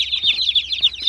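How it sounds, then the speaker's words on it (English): Dozens of newly picked-up meat bird chicks peep continuously in a shrill, overlapping chorus, close and fairly loud, with a few soft thumps underneath and no talking. "Just got back from picking up the chicks."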